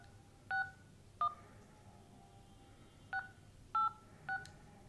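Five short, clean electronic keypad beeps ring out one by one with uneven gaps as a phone PIN is entered during an automated verification call, each tone brief and crisp against a quiet background.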